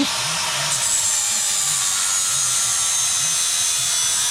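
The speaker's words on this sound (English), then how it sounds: "He's filing down the head of the bolt" Head of a bolt being filed down during an M57 engine swap into a Land Rover Discovery 200 Tdi: a steady, loud, hissing metal rasp with faint rhythmic strokes underneath, continuous throughout.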